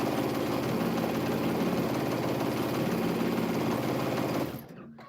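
Sewing machine back tacking at the end of a quilt seam: a fast, steady mechanical whir and rapid needle chatter running continuously at close range, then stopping abruptly near the end.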